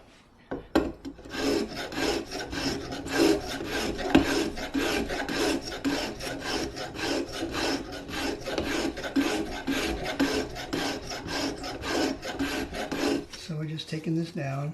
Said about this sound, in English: I have a draw knife here that we can just start rounding these corners off